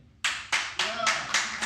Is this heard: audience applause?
yes